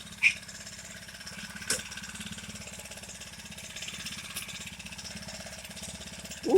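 A Bikeberry 49cc four-stroke motorized bicycle engine putters steadily in light rain, with fast, even, fairly quiet pulses and a few faint knocks.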